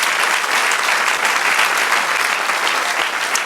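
A church congregation applauds during a sermon, with steady, dense clapping from many hands filling the room throughout.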